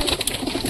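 Pigeons coo in a loft on a hot day, a soft, continuous, nearby murmuring that carries steadily through a short stretch with no voices over it.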